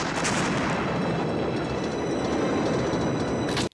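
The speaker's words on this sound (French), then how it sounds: "Explosion de la piole." A sustained, loud, rumbling roar of a house explosion in a 1995 film, filling the whole clip before cutting off abruptly at the end.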